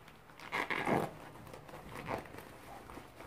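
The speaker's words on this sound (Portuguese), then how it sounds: "Você abre o zíper." A zipper on a handmade fabric phone case with a double window is pulled open in a few short rasping strokes, close and fairly quiet, with soft handling noises in between.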